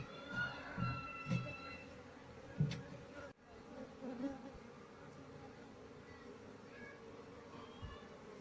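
Asian honey bee (Apis cerana) colony buzzing at a hive, a low steady hum throughout with a few brief louder passes of individual bees, quiet and close.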